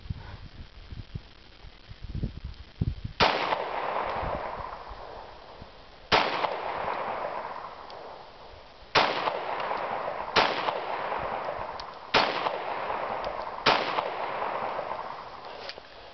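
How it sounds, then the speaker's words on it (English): A Kahr CW45 pistol fires six loud, sharp shots outdoors. They come at uneven intervals of roughly one to three seconds, and each blast trails off in a long echo. "This will just be a quick shooting video."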